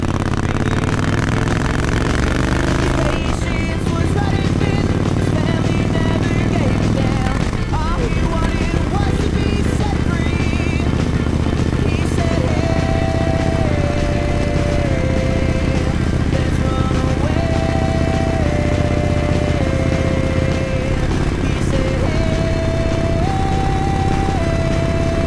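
Motorcycle ride on Highway 101 between Oceanside and Carlsbad, captured from a helmet chin mount: a steady, loud engine drone with wind roar and shifting engine pitch, continuous throughout.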